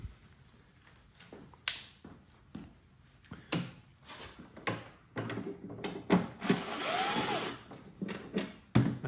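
Short bursts of a power drill whirring on and off removing screws from a Greenworks 20-inch single-stage snowblower chute, mixed with clicks and handling knocks, close by and fairly quiet, no speech.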